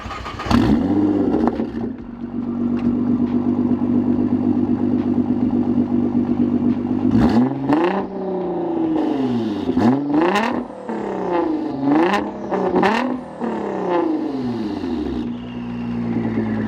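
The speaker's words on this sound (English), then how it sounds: "Woo-hoo, the turbos! The turbos sound amazing." A twin-turbo Nissan GT-R engine idles loudly, then revs hard several times in quick bursts, turbos whooshing and whistling between blips, close and powerful.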